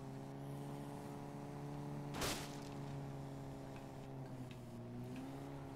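A car driven in the video game Dead Rising 3, a steady engine drone with shifting pitch as it revs, one sharp impact thud partway through, no talking.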